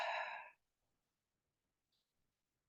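One short, soft out-breath during a qigong exercise, a breathy sigh lasting half a second, followed by near silence and a faint click.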